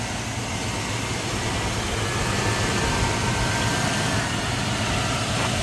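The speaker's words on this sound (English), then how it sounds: "It's tuned very, very well because it literally fires right up." A 1987 Jeep Grand Wagoneer's 360 cubic inch (5.9 liter) V8 runs at a steady idle, a loud, continuous low rumble with an even hum and no voices.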